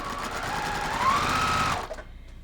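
A sewing machine chain-pieces quilt blocks in one fast, steady whirring run that stops abruptly after nearly two seconds, leaving near silence.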